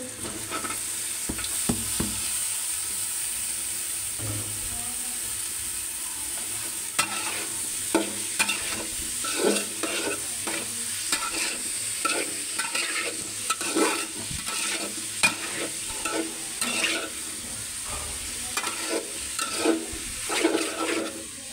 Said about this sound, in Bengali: এখন সবজিগুলো ঢেলে দিতে